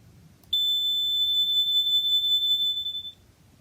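A single steady, piercing high-pitched test tone sounds alone for about two and a half seconds, starting abruptly and cutting off cleanly over faint background hiss.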